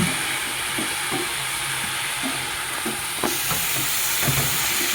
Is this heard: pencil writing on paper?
no